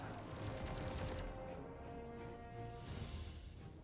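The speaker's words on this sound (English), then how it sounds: "Hit him with all my weapons at once" Ship weapons firing all at once in the space game Star Citizen, a dense rapid stream of energy-weapon shots and bursts over a droning engine hum, fairly quiet overall.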